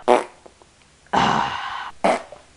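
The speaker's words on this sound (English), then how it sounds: "And Daddy farts and then turn off the lights." Three farts in quick succession, a short burst, a longer sustained buzzing one, then another short blast, loud and close with quiet gaps between.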